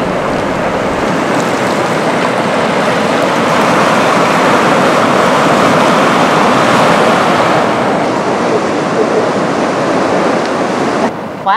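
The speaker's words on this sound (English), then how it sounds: "the ocean waves are very calming" Ocean surf breaks and washes along the Northern California coast at Fort Bragg: a loud, continuous roar of churning waves rising and falling slightly, with no voices.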